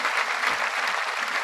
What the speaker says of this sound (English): You're getting applause.